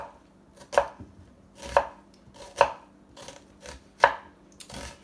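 A knife makes dicing cuts into an onion held at the root end, five separate crisp chops on a board at an unhurried pace, close up with no talking.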